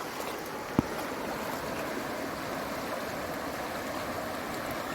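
River water rushing around a log, a steady broad wash of flowing water with one sharp knock near the start.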